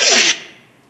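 A single sharp sneeze bursts out loud and close at the start, then fades quickly into near quiet.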